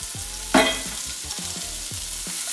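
Pieces of nangu fish dropped into hot oil make a sharp burst of sizzling and then a steady, close crackle, with light clicks from a utensil in the pan.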